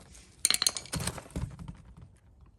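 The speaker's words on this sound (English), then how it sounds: "Taking up the old clip, simply slice your screwdriver in and push it." A metal brake pad clip from a 2018 Toyota Highlander pried off with a screwdriver: a quick run of sharp, close metallic clicks and clinks followed by a couple of duller knocks, quiet and with no talking.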